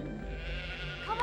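Sheep bleating in the Charlie and the Chocolate Factory video game, a short nasal bleat rising near the end over a steady background of game music and ambience.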